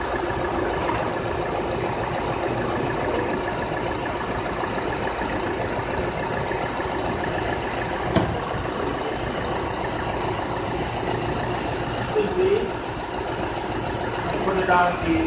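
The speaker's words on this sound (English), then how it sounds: "So I'm going to go ahead and start the vehicle, turn on the loads and the lights, accessories" A vehicle engine runs at a steady idle throughout, a constant close-up hum with lights and accessories switched on during an alternator voltage drop test, with a small click partway through and faint handling noises near the end.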